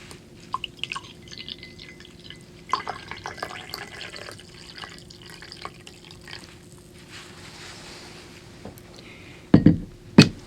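Freshly made tea is poured into cups in a quiet kitchen, with soft trickling and faint clinks, then a brief, louder splash of liquid near the end.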